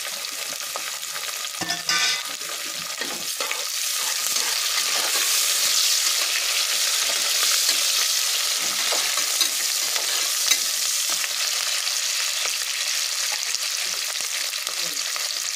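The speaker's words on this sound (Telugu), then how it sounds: "ఇప్పుడు పచ్చిమిర్చి, కరివేపాకు, కొంచెం కొత్తిమీర కూడా వేసుకుంటాం" Green chillies, curry leaves and coriander frying in hot oil for mutton biryani, a steady close sizzle with occasional stirring scrapes throughout, no talking.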